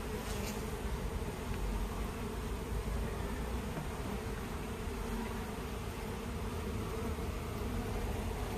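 Dense, continuous buzzing from honey bees swarming around an open beehive during an autumn hive inspection, a steady close-up drone throughout with no talk.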